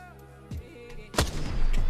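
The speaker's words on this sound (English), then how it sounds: "we can try out this triple take now" The Triple Take rifle fires in Apex Legends on the firing range. A soft shot is followed by a loud, sharp blast with a lingering echoing tail, close and without talk.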